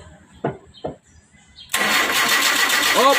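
A 2010 Kia Rio with a no-start fault is cranked after fuel repair work: two brief starter whirs, then the engine catches and runs at a loud, steady idle close by.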